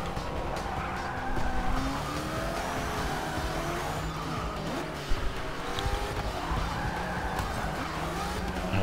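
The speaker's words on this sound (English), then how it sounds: "Smoking the tires." Car tires squealing and smoking during a racing game passing challenge, a continuous wavering screech over a loud revving engine.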